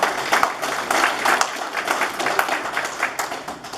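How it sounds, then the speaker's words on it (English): Audience applause at a VFW post honoring Vietnam veterans: steady, fairly close clapping from a room of people, continuous and even, with no voices over it. "give me a round of applause for the Vietnam veterans"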